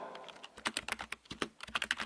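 Typing on a computer keyboard, close and crisp: a quick, irregular run of key clicks with brief pauses between bursts, heard alone.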